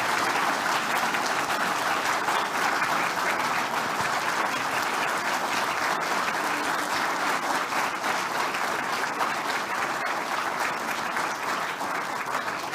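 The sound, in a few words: audience applause at awards ceremony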